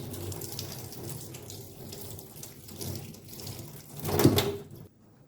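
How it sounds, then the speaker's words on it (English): Mackerel (Titus fish) being washed under a running kitchen tap, a continuous splashing stream with handling noises, swelling louder near the end before cutting off to silence. "This is the Titus fish, the mackerel. I wash it with water"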